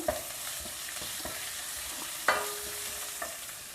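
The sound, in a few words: stir frying capsicum, French beans and carrot in oil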